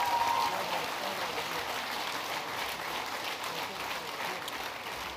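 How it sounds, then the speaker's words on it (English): Applause from a crowded room at a regional sports awards night, a dense steady wash of many hands clapping that holds at an even level throughout, with faint voices mixed in. "Let's give her another round of applause"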